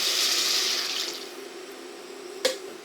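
Water pours into a soup pot of softened vegetables for a corn and chicken soup, a loud steady splashing rush that tapers off, followed by a single sharp clink.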